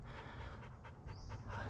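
A dog pants steadily near a hiking track close to a summit: quick, breathy rhythm, soft and fairly faint against a quiet outdoor background.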